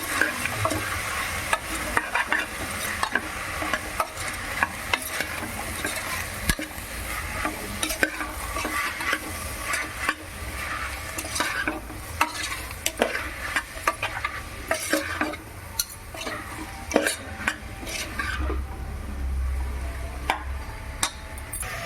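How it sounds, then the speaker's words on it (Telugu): Tomatoes and onions fry in a pan with a steady sizzle, while a spoon stirs and scrapes against the metal in frequent quick strokes, close and continuous, with no voices. "చూడండి బాగా వేగుతూ ఉంది కదా"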